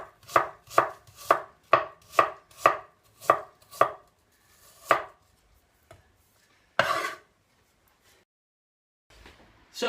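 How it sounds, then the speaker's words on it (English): A knife slices apples into very thin slices on a board, about ten quick, evenly spaced crisp chops followed by a few scattered cuts and handling sounds with pauses, close and clear with no talking. "we're going to slice these apples into very fine slices"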